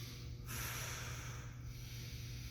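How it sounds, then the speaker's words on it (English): Forceful breaths out and in during a workout, close to the mic: a sharp, hissing exhale followed by an inhale, repeated twice at a steady pace over a constant low hum. "Breathe out, breathe in."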